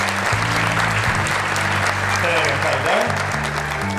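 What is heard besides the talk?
audience applause welcoming guests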